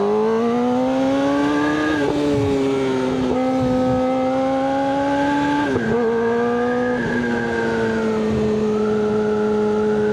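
A Suzuki GSX-R600 sport motorcycle revs and pulls through the gears while being ridden around a business park, its engine note rising in steady sweeps with brief drops at each shift, loud and continuous with wind rush throughout.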